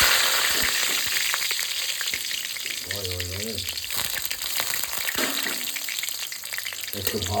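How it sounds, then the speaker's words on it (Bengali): Whole cardamom, clove, cinnamon and bay leaves sizzle in hot oil after fried potatoes, in preparation for a mutton dish. A loud, steady frying hiss fills the whole clip, with occasional stirring clatter and a brief tonal sound near the middle. "এবার গোটা মশলা যেগুলো আছে এগুলো সব ফোড়ন দিয়ে দেবো"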